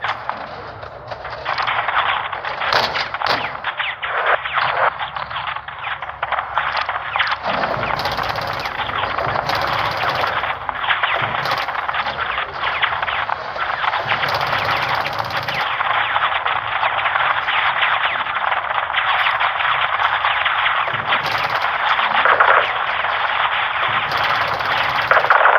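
Gunfire and battle noise from Call of Duty MW2 during an attack on a Mexican army convoy, a dense continuous roar of shots and explosions with no clear pauses.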